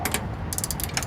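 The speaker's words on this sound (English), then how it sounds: "Now all I gotta do is tighten them." A ratchet clicks rapidly in two quick bursts while tightening mudflap bolts on a vehicle, close and fairly loud, with no talking.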